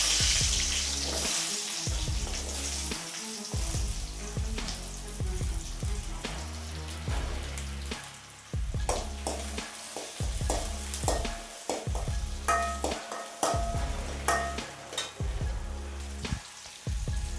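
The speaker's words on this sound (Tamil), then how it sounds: "தக்காளி 4 தக்காளி இதை போட்டு வதக்கலாம்." Tomatoes sautéed with sliced onions in a pan for onion sambar, giving a soft sizzle broken by repeated scraping and stirring strokes in an irregular rhythm, close and fairly quiet.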